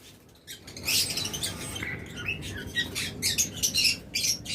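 Pet birds offered for sale, a flock of small cage birds chirping and squawking in quick, overlapping bursts, close and fairly loud with no talk.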